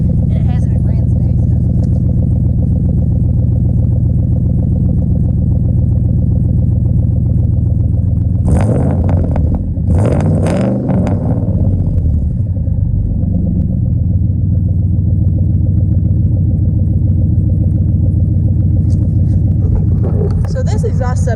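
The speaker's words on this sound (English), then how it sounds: "Listen to the exhaust, rev it up a little bit." A 1997 or 2003 Ford F150 with a triple dual exhaust, no cats, and two 28-inch glass packs rumbles loudly at a cold idle, with a couple of short throttle blips standing out partway through.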